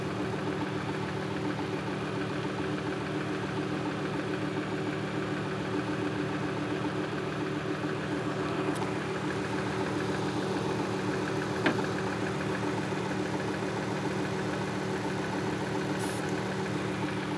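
A car engine idles steadily throughout an air-conditioning refrigerant recharge, a constant, even hum with faint rhythmic vibration and a couple of tiny clicks.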